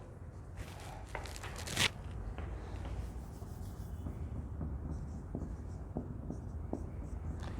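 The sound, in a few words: writing math solution on a board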